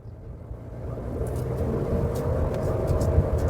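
A Volkswagen Taigun 1.0 automatic accelerates, its engine note building from a quiet start into a rising, fairly loud rumble with a few brief higher sounds on top.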